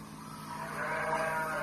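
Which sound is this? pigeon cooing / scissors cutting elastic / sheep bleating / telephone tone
sheep bleating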